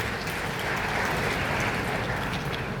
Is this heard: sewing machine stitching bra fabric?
no